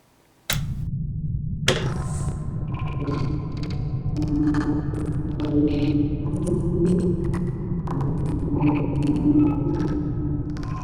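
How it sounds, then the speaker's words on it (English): Synthesizer sound design with clacky retro keys layered over added brown noise: a steady, deep rumbling hiss starts abruptly and holds throughout while scattered bright key tones and short tonal blips play above it. "now let's add brown noise"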